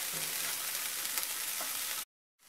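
Green beans stir-fried in a pan for beans poriyal, a steady close sizzle with scraping stir noises running for about two seconds before cutting to silence.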